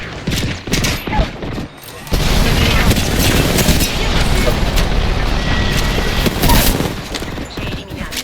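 Dense gunfire from a battle royale shooter game, a sustained fusillade of shots and booms aimed at the player, loud and continuous after a brief lull, with a voice speaking intermittently over it.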